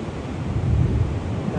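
Ocean surf rolls and washes at Half Moon Bay as a broad low rumble, swelling midway, with wind buffeting the microphone and a faint voice under the noise.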